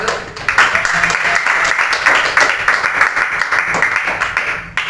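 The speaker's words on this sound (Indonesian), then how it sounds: "tepuk tangan untuk kelompok ke-1." Classroom of seventh-grade students applauds a student group in a steady, close, lively burst of clapping lasting several seconds, with faint voices underneath.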